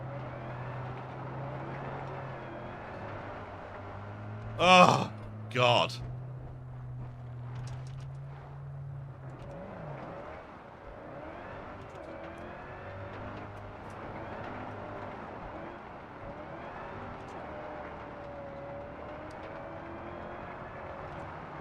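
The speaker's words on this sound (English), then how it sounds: "Why does it sound like there's another car right here?" A car engine drones steadily in the racing game Test Drive Unlimited Solar Crown, a continuous low hum with shifting pitch, broken early by a short exclamation from a man.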